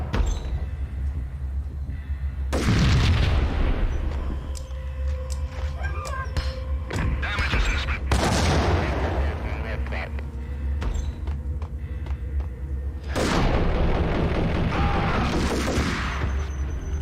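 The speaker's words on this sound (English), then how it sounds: "Hit me with that grenade again." Three loud explosive bursts from a grenade in the shooter game Max Payne, each a broad blast with a rumbling tail, spaced several seconds apart over steady game background noise.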